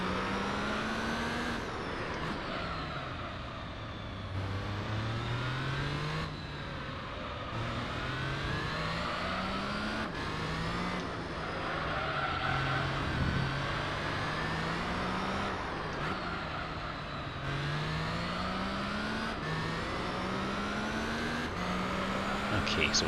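A Suzuki Escudo Pikes Peak race car's engine in Gran Turismo 3, revving hard through repeated gear changes, pitch climbing and dropping in cycles as it accelerates, loud and continuous on track.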